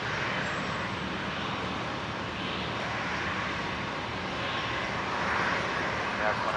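Boeing 737-800 airliner arriving on runway 01 right at Brisbane Airport, a distant steady jet engine rumble and roar spread broadly, with voices and tower radio chatter over it.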